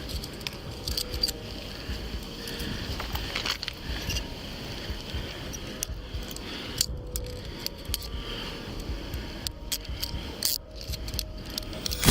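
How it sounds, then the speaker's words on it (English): Keys jangle as they are pulled out of a bike during a police stop, with metallic clinks and rattles scattered through a steady background, close and continuous without speech. "Get the keys out the bike."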